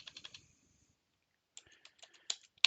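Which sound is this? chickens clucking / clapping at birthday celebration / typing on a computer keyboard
typing on a computer keyboard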